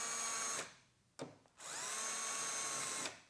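A power drill pre-drilling hinge screw holes in a wooden cabinet, two loud close whirring bursts with a brief trigger blip between them, no talk.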